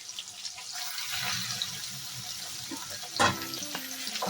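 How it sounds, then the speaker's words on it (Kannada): Green chilli, garlic, ginger and tomato fry in a pan for palak paneer, a continuous close sizzle broken by a brief louder clatter of stirring partway through, with no talking. "ಇದೆಲ್ಲ ಚೆನ್ನಾಗಿ ಫ್ರೈ ಮಾಡ್ಕೊಳ್ಳೋಣ"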